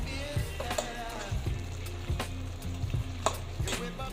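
Pancit noodles with mixed vegetables and eggs stir-fried in a pan, a steady low sizzle broken by repeated scraping and tossing clicks of the utensil, close and fairly quiet.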